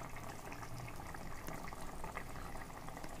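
Paneer capsicum curry simmering under a lid, a quiet steady bubbling and hiss with small plops, even throughout and fairly faint.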